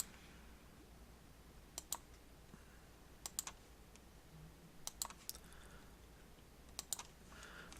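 Computer mouse clicks while erasing in a drawing app: faint, sparse sharp clicks, sometimes in quick pairs, spaced a second or two apart over a quiet background hiss.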